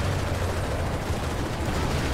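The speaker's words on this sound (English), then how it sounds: "We're taking fire!" Continuous heavy gunfire and battle din in Call of Duty Modern Warfare 3 during the Scorched Earth mission, loud and dense without pause.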